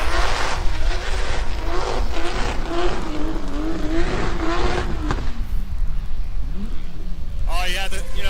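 A BMW E46 drift car passes at a drift competition, its engine roaring and revving continuously close by, with an announcer talking over the noise and a crowd in the background.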